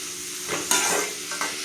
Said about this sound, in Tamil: பொடியை நறுக்கி வச்ச ஒரு 4 வெங்காயங்க இதை நம்ம வதக்கலாம்